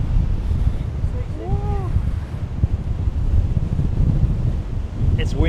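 Strong wind buffets the microphone at Penguin's Head on Culburra Beach, a steady low rumble and roar from start to finish, with a large swell breaking behind it and brief faint calls near the end.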